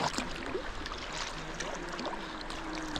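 A canoe is paddled along a river on a club trip, with soft water swishes and gentle splashes of paddle strokes close by over a steady flowing-water background; no talking.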